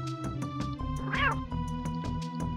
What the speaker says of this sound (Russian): Тут такой рык, что его никто не испугается, блин, этого котенка миленького